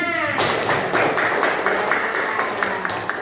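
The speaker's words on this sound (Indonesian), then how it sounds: "tepuk tangan dulu buat semuanya" A classroom of students applauding together, a brisk patter of many hands clapping with some light taps and thumps, close and lively, after a short tonal sound at the start.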